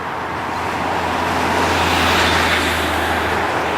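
Road traffic on the 250 Bypass makes a loud, continuous roar of cars and heavier vehicles rushing past close by, a dense broadband rumble that swells slightly midway with no pauses.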